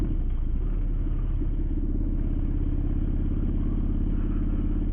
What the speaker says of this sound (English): I like to have some road noise in my video